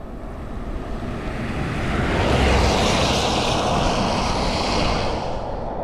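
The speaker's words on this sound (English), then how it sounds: "So much water falling through the trees." Heavy rain pouring and dripping through forest trees in the Shenandoahs, a dense, steady roaring hiss that swells slightly midway, with no voices.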